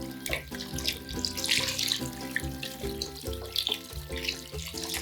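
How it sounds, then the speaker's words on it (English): Water pours steadily from a tap into a soup pot in a kitchen, a loud, close, continuous gushing stream with some clinking in the background. A musical backing plays underneath, and nobody speaks. "Now I'm gonna add water."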